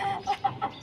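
A hen clucks in a short series of four rhythmic, fairly close calls, heard alone on a small home setting where eggs are being collected.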